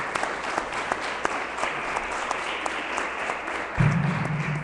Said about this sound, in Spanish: Les pido lo recibamos con un aplauso